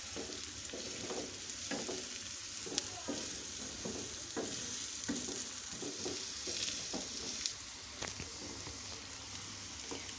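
Sliced onions fry in a pan as the base for a masala egg fry, giving a steady close sizzle with light crackle and occasional stirring scrapes throughout, with no talking.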